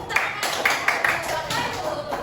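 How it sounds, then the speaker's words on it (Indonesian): Classroom clapping during a primary-school lesson, a few sparse claps mixed into a murmur of children's voices in the room. "ada tepuk tangan dulu"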